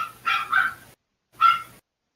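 A dog gives three sharp barks, two in quick succession and then one after a short pause, fairly close and clear with no talking.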